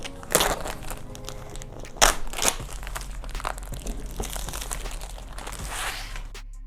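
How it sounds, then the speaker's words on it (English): DJI OM4 gimbal packaging is unboxed with close, continuous crinkling and crunching of paper and plastic, punctuated by a couple of sharp louder tears. "let's unbox it."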